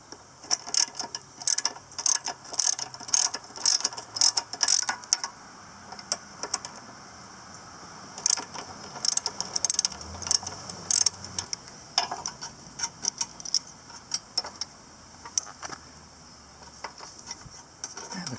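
A hand ratchet clicks rapidly in repeated bursts while 3/8 inch bolts are loosened from the carburetor of a Sears Craftsman lawn mower with a Briggs & Stratton engine, quiet and close, with brief pauses between runs.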